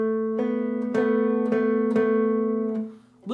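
An A and a B played together as a major second on guitar, the two-note chord plucked repeatedly in a steady rhythm of about five strums, ringing and slightly beating before a brief dip at the end.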